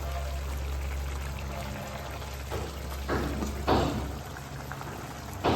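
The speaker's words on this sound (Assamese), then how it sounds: "এইখিনি ভাজি হোৱাৰ পিছত এতিয়া মই দিম পানী জোখমতে।" Water pours into a hot frying pan while cooking paneer ghotala, arriving in a few short splashing bursts over a steady low kitchen hum, close and moderately loud.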